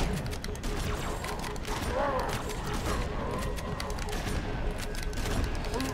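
Gunfire in the video game Halo 2 during a fight with a Brute, heard as a dense, steady barrage of shots under game noise. A voice talks faintly over it.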